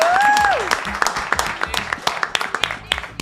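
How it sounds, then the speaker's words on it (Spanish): Studio audience applause for a guest on a Spanish-language talk show, a dense burst of many hands clapping that fades quickly, with a voice briefly speaking at the start. "a quien vamos a recibir con un fuerte aplauso"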